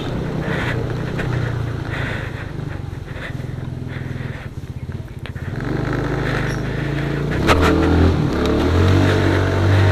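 A motorcycle engine idles with a throbbing putter, then revs up loudly in repeated bursts, close to the listener.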